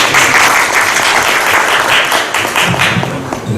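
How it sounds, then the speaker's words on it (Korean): An audience at a Korean policy forum claps warmly for a village head being introduced, a dense continuous wash of applause from a full room that begins to thin slightly toward the end. "여러분 박수로 맞이해 주시기 바랍니다."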